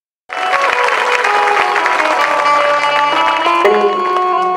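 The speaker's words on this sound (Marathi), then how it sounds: "एकदा जोरदार टाळ्या झाल्या पाहिजे" Dense, sustained clapping from an audience at a Marathi Shiv Purana religious discourse, beginning abruptly and holding steady and loud with music tones running underneath, without speech.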